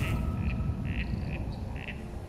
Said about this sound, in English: Sounds like a frog in the background